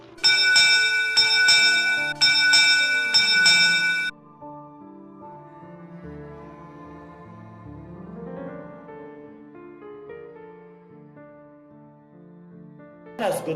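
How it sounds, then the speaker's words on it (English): A church bell rung by a sexton pulling the bell rope in the porch of a meeting house: a few loud, bright ringing strokes at the start, fading into sustained tones for the rest. "The sexton stood in the porch of Melford Meeting House, pulling busily at the bell rope."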